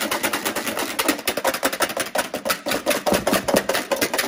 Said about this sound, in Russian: Теперь берем наши белки и взбиваем их до воздушного облака.